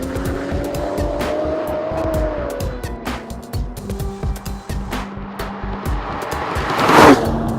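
A Volvo S60 Polestar with a tuned T6 engine is driven hard: its engine note climbs then drops, gear changes and mechanical clatter follow, and a sharp burst of tire squeal erupts near the end.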